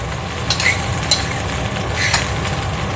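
Vegetables stir-fried with garlic in a hot pan, a dense steady sizzle with three quick scraping clinks of a spatula spaced through it, close and loud, without speech.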